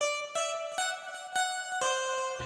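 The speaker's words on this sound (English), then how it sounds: "This sound is called First Clean Guitar." Clean, Strat-like electric guitar preset called First Clean Guitar picking a quick run of bright plucked notes, about six crisp attacks in a loose rhythm, each ringing briefly, close and alone.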